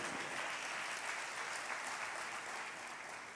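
A church congregation claps their hands together, a fairly faint, even wash of applause heard from a distance that continues steadily throughout.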